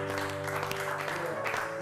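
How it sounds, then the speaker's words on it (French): A church congregation claps and cheers for the Lord, a dense continuous wash of applause over sustained keyboard chords, with voices mixed into the crowd noise. "Est-ce que quelqu'un peut acclamer le Seigneur?"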